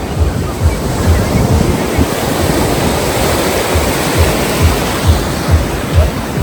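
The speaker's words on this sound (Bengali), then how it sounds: "দীঘার সমুদ্র দীঘার সমুদ্র" Ocean surf at Digha beach rolls in steadily, with waves breaking in a low rhythmic roar about once a second, loud and close, mixed with wind buffeting the microphone.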